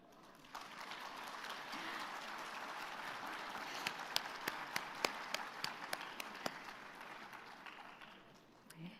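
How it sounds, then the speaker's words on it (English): Audience at an agroforestry congress closing ceremony giving a round of applause, a fairly distant, sustained wash of many hands clapping with a few sharper individual claps standing out before it tapers off. "round of applause."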